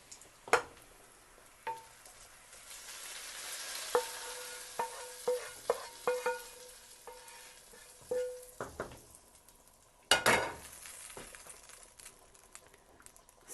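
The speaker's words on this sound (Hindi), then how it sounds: "अब हम इसमें अपना जो तड़का है जो हमने बनाया है वो अब हम इसमें ऐड कर देंगे।" Hot tadka poured into cooked daal in a home kitchen gives a sharp burst of sizzling and crackling, with scattered stirring clinks and taps, and one loud surge of frying hiss near the end.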